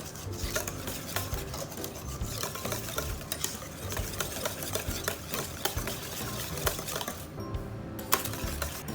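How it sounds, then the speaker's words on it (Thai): A utensil stirs sandwich salad dressing made with vinegar in a bowl, scraping and clinking steadily against the sides in a continuous close rhythm, heard without talking. "คนเข้ากันเลย ข้างๆด้วยนะคะ"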